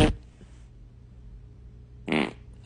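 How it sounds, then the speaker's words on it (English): Two short, close farts about two seconds apart: a sharp burst at the start and a louder, buzzier one near the end, with quiet room noise between. "That's my fart."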